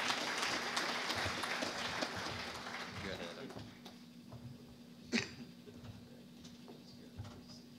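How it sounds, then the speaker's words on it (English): A conference audience at a ULI Americas trends session gives the panel a fairly faint round of clapping that fades out after about four seconds, leaving a quiet room with a steady hum and a few scattered noises. "Maybe one more applause for the panel"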